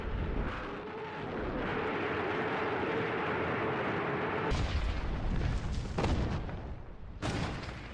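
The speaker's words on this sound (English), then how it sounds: "the Soviets obliterate the enemy's lines, pounding them with the rocket launchers they call Stalin's organs" A Soviet Katyusha rocket-launcher barrage pounds enemy lines in a World War II offensive: a long rushing roar, then three heavy booming blasts at uneven intervals.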